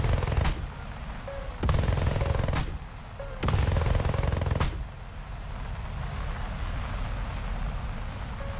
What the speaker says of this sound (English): it just like muffles everything when you fire the gun